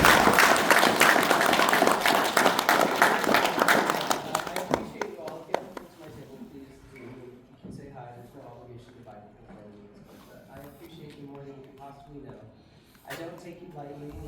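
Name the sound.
audience applause for David Yost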